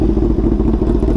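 Kawasaki ZX-10R motorcycle engine at full power, a loud, close, throbbing growl that holds steady for the whole short burst.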